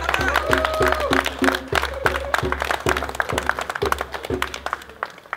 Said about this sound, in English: That's another round of applause, please.